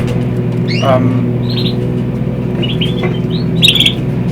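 Several caged canaries chirp and tweet in short bright bursts over a steady low hum, sounding close by and indoors.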